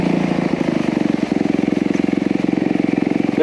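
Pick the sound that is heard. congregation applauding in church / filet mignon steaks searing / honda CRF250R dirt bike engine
honda CRF250R dirt bike engine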